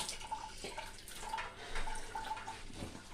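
Tap water running and splashing in a sink while ice-dyed fabric is rinsed, a steady close stream with small drips and splashes and no voices.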